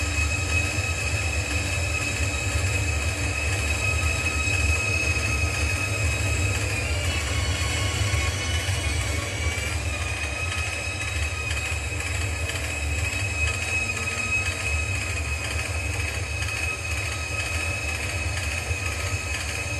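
Shinkansen high-speed train running in the Trainz simulator, a steady synthetic rumble of wheels and motor with high tonal whines held throughout and a brief pitch bend midway, loud and unbroken.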